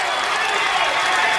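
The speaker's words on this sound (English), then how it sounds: "You hear her husband in the crowd. He's hollering." A live poker tournament crowd erupts with a dense wash of cheering, applause and hollering voices. The noise is steady and fairly loud for the whole moment, with no single call standing out clearly.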